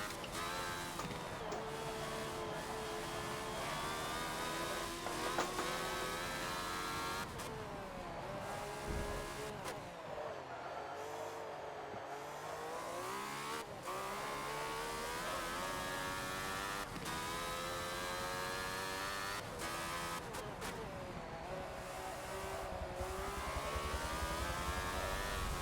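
A 1976 Ferrari F1 car's engine in Forza, lapping the Nordschleife, holds a continuous loud harmonic scream that rises and falls with the shifts. It sags briefly into a lower, rougher note before it climbs again.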